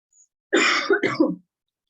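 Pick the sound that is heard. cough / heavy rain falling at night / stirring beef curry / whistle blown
cough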